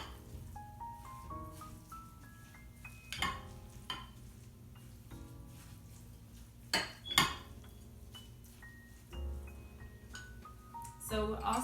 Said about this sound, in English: And just give it a stir.